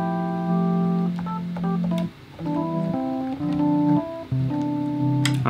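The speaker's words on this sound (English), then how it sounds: "so I'm going to use an electric piano sound" An electric piano plays mellow, sustained chords for a lo-fi beat, with several chord changes separated by brief gaps and soft attacks, and no voice.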